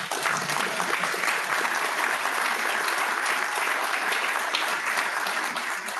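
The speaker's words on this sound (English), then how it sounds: "now clap" An audience at a mayoral candidate forum in Ogden Valley gives sustained, dense applause, loud and even from start to finish, with no voice standing out.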